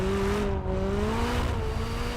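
Turbocharged McLaren road car without aero, its engine pulling hard under acceleration with a strong rising tone, steady and close, briefly easing before carrying on.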